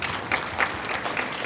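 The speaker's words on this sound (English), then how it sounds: "So let's give them a round of applause." Audience applause in a hall during a mayor's educational equity conference at NJIT in Newark, a short, steady patter of clapping from a crowd, moderately loud and continuous, with no speech.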